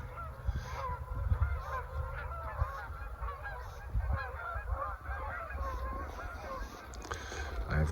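Upset mallard ducks calling in a flock, a dense overlapping chorus of honking quacks at moderate distance, continuous and agitated, with some birds taking off.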